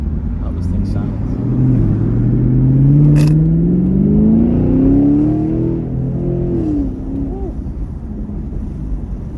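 A 2017 Chevy Camaro 1SS 6.2 V8 accelerates on the road, its deep rumble rising steadily in pitch through a gear, with wind buffeting the microphone.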